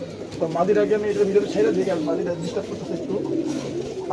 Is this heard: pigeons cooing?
yes